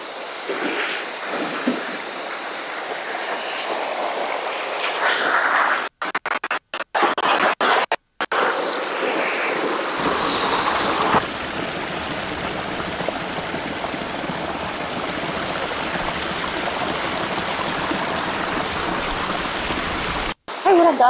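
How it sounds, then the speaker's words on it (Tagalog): Strong river current rushing in a steady broadband roar that swells louder about halfway through, with brief dropouts and a few scattered voices near the start. "Ay, malakas ang agos. Naaagos ako."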